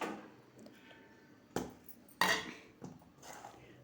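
Spoonfuls of cauliflower-leaf chutney are scraped into a bowl, giving a few sharp clinks and scrapes of a spoon against the dish, with quiet handling in between.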